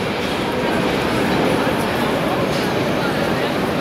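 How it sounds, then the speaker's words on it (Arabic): A Moscow metro train rides with a loud, steady roar of wheels and rushing air throughout, a constant dense rumble with no clear breaks, while speech sits faintly under the noise. "المترو ده جديد برضو، مش اجدد حاجه بس مترو حلو."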